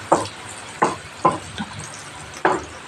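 Green chili sautéing with shrimp paste in a pan for Bicol Express, a soft sizzle under four or five sharp spatula knocks spaced about half a second apart, close by, no talking.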